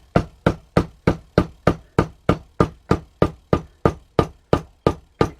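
A hammer taps steadily along the stitching of a leather pouch, about nineteen crisp, even knocks in a brisk regular rhythm, close and clear with no talking.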